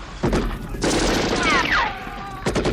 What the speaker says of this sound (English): dropping them with rapid gunfire and grenades, using everything in his arsenal